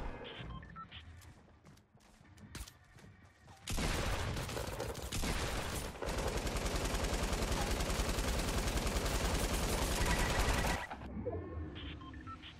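Rapid bursts of gunfire in Fortnite Battle Royale, scattered shots at first, then a long dense stretch of sustained automatic fire, loud and close.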